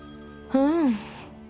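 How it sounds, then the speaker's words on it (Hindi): A single electronic phone ring, a short warbling tone that rises and falls, heard once against quiet room noise. "और फोन बज रहा है"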